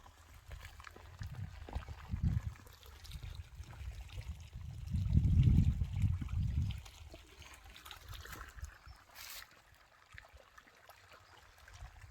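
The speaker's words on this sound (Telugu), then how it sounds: "నీళ్ళు బోదంట మనకి ఇలాగ వచ్చేస్తున్నాయి" Irrigation water trickling along a channel in a farm field between plots, a soft, low gurgling flow that swells briefly in the middle, heard nearby with faint outdoor background and no talk.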